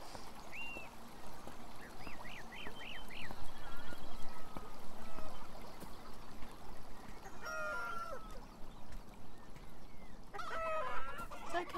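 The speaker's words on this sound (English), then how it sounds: "They're chickens." Chickens cluck and a rooster crows in the video game Beyond Eyes, a busy farmyard chorus of repeated clucks and squawks over steady outdoor ambience, with bursts of louder calls toward the end.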